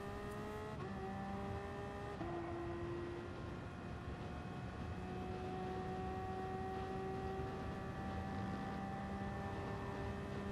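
Toyota TS050 race car in Gran Turismo Sport accelerating out of a corner, a high engine whine climbing steadily through gear changes, loud and continuous with no talk.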